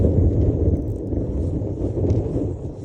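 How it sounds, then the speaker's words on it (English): Steady wind buffets the microphone outdoors on the water during kayak trout fishing, a loud continuous low rumble with slight gusts and no speech. "Jesus, wind."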